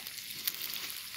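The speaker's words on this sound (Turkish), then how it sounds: "Şey ettik, az bir yağın içine soğan attık." Onions sizzle faintly in a little oil in a pan over an open fire in a garden, a brief, soft, steady hiss of frying.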